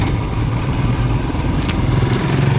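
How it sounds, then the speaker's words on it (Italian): A motorcycle passes on a road in the Gaiole in Chianti countryside, a steady rough engine drone with no voices, fairly close and continuous throughout. "Ho sentito una moto."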